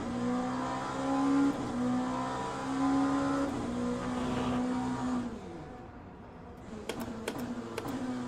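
Racing cars in the Le Mans Ultimate sim at Portimao roar steadily with high engine drones and shifting pitch, a sustained loud engine wash that thins out midway before sharp brief clicks near the end.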